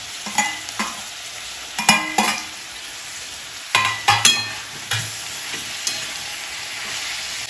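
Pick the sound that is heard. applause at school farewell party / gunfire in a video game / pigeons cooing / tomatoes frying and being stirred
tomatoes frying and being stirred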